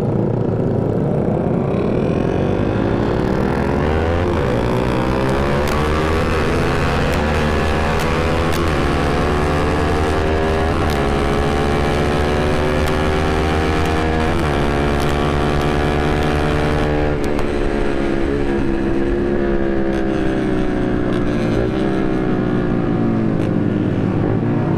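A motorcycle engine runs close and loud for a long stretch, its pitch rising and falling repeatedly as it revs and shifts through gears, without talk.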